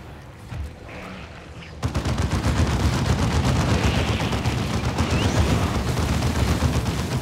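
Sentry guns in the video game Warhammer 40k Dawn of War 2 open up under enemy attack, a dense, continuous rattle of rapid gunfire that starts suddenly after a quieter opening and keeps up loudly to the end.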